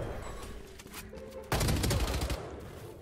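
Rapid gunfire in a shooter video game comes as a burst of shots from the middle onward, loud and close, following quieter in-game sounds and scattered distant pops.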